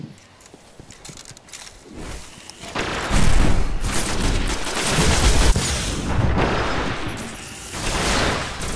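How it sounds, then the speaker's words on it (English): Rapid auto rifle fire in the video game Destiny, a Clash multiplayer match, crackling in dense bursts that swell after the first few seconds and keep going without a break. "we just go with the weapon everyone else is using. Fucking auto rifle."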